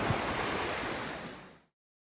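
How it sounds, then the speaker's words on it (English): Ocean surf washes onto a wide beach in Punta Cana, Dominican Republic, a broad, loud roar of waves mixed with wind that cuts off abruptly after about a second and a half. "here you see the ocean, which is pretty cold for a 4th of July."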